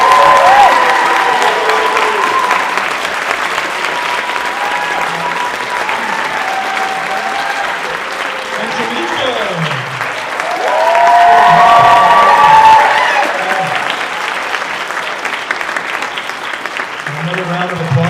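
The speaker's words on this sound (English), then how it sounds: "Let's give it up for Genevieve" Sustained applause from a large audience at a high school choir concert, dense clapping throughout that swells briefly midway, with voices and cheers mixed in.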